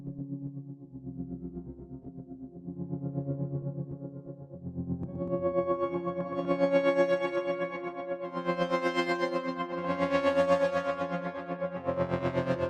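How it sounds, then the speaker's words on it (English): A melodic techno synth plays a chord progression built from three notes, with sustained layered tones that start dark and low, then brighten and climb in octave as pulsing swells repeat. "utilizing 3 notes and changing the octaves, changing the amount of different notes and creating this really different vibe"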